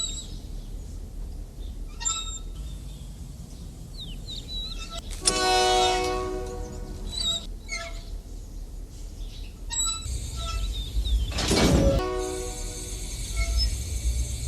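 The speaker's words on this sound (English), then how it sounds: "the whistle of the train starting interrupted his thoughts" A train sounds its whistle in several long, loud, tonal blasts as it starts moving, set over a steady rumble of rolling railcars, with sharper clanks and a second burst later on.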